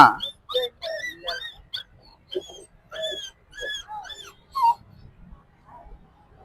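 A puppy whimpers and yips in a string of high, thin whines, close and clear, with short gaps between cries and some human voices nearby.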